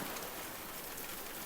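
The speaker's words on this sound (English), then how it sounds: "Let the sound of rain lead you gently, one drop at a time, into rest." Steady, soft rain falls in a continuous hiss with no distinct drops standing out, an even, unbroken wash of sound with no voices.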